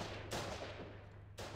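Gunfire in the video game Foxhole, a dense sustained crackle of shots, fairly faint and distant, with a sharper burst near the end.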